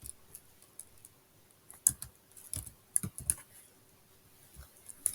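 Keystrokes on a computer keyboard while a formula is typed into Excel, scattered light clicks in short bursts with pauses between them, close but quiet.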